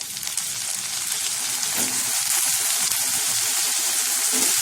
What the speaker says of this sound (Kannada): ಆಲೂಗೆಡ್ಡೆ ಹಾಕೊಳ್ತಾ ಇದ್ದೀನಿ